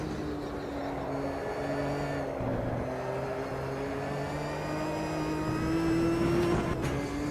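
GT4 race car in the Automobilista 2 sim at Campo Grande, its engine droning steadily under throttle with a sustained harmonic whine that rises slightly and swells louder near the end, with no talk.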